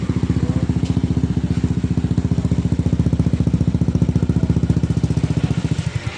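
A Honda PCX 160 scooter with a Daytona racing exhaust and its silencer insert fitted idles steadily up close, a loud, even, pulsing putter that stops abruptly near the end.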